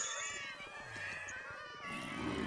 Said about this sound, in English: we have to get past all the cats